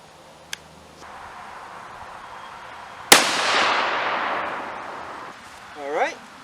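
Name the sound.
6.5 Creedmoor rifle shot with 142 grain SMK bullet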